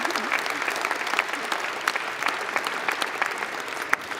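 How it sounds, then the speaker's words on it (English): Sustained applause from members filling the House chamber, an even patter of many hands clapping throughout, with sharper individual claps popping out near the end. "That's reason to applaud."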